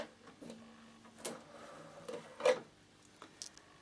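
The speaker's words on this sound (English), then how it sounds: "Put my foot down, and I'm going to do every first ruffle." A Bernina sewing machine with a ruffler attachment sews ruffles in linen, giving faint, intermittent mechanical clicks and taps over a low motor whir, with no talking.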